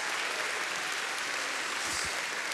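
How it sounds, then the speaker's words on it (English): Worshippers at a Sunday church service give a praise offering of clapping, a sustained, even crowd applause of many hands that carries on steadily without a break and without talk. "We give you a clap offering of praise, Lord."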